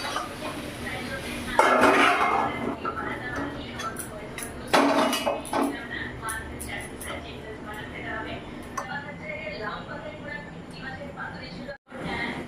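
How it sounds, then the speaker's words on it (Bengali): Fried cauliflower and potato tip out of a pan, with metal utensils scraping and clanking against the pan in bursts while someone talks throughout. "কপি আলুটা ভাজা হয়ে গেছে, এবার ঢেলে দিচ্ছি।"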